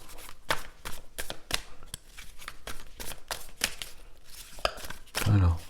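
Tarot cards being cut and shuffled by hand, a run of crisp, sharp slaps and riffles in an uneven rhythm, close and clear, with a voice speaking quietly between them.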